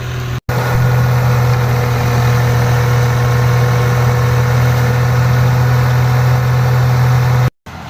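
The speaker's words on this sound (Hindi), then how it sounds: "अभी मशीन का शोर है" Loud, steady engine drone of a peanut harvesting machine running in a field at dusk, a continuous low hum that holds throughout with two brief cutouts.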